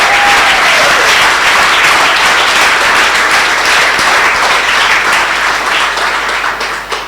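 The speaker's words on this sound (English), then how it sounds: "Can we have one last round of applause for all the teams who pitched tonight from Injini" Loud, sustained applause from an audience at a startup demo day for the Injini Cohort 1 pitching teams, dense clapping filling the room for about seven seconds before tapering slightly at the end.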